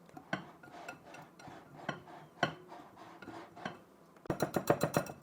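A utensil stirs and scrapes a dry mix of flour, ginger, clove, nutmeg, cinnamon, salt and baking soda in a bowl, with irregular soft clinks that turn into a quick, rapid run of taps at the end, close and fairly quiet.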